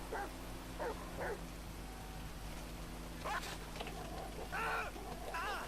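A pitbull dog in the GTA V video game giving several short barks and yips in bursts over a steady low hum.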